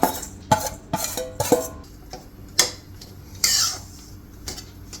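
A spoon stirs and roasts grated mawa (khoya) in ghee in a kadhai over low heat, making a series of close, sharp metallic taps and clinks at an uneven rhythm with soft scraping between them.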